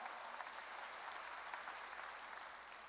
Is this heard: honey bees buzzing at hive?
no